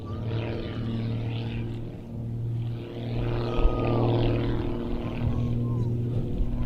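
A modified Pitts S2S aerobatic biplane runs in and pulls up into a vertical climbing, rolling tower, its steady engine drone holding at a distance before swelling and shifting in pitch midway through the climb.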